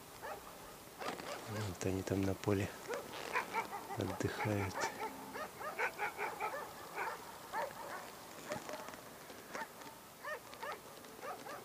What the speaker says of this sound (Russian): Вот за дорогой частный дом собака лает.